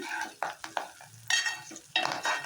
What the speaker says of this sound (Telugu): ఇప్పుడు దీంట్లోకి రుచికి సరిపడా పసుపు వేసుకొని కలుపుకుందాము.